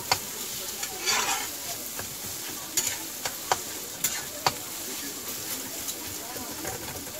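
A spoon stirs ridge gourd and egg sabzi in a sizzling pan, sharp scrapes and clacks ticking out irregularly over a constant fry hiss, with a voice speaking faintly in places.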